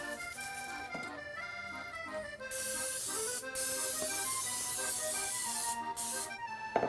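Several bursts of cooking spray hiss loudly into a casserole dish, each lasting a second or more, with soft background music underneath.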